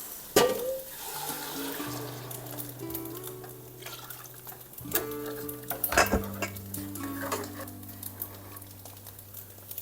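Kitchen clatter of sweet potato and broth tipped into a pot, with clinks of a spoon and pan and a steady low hum underneath; no talking.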